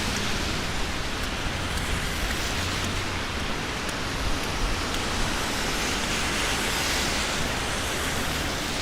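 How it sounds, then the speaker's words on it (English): Steady, dense hiss of freezing rain falling on a New York City street in the evening, continuous and enveloping with no voices. "Now it's freezing rain."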